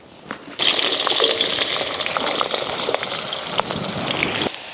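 Onions, green chilies and bay leaves in hot oil, a loud dense sizzle that bursts in suddenly and crackles steadily before cutting off, close and without talk.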